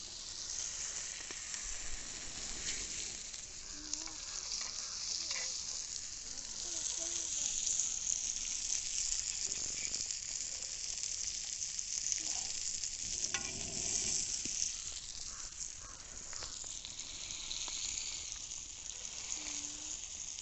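Redbelly fish frying on a tawa in Kerala style: a steady, close oily sizzle and crackle runs throughout with occasional soft stirring or shifting sounds.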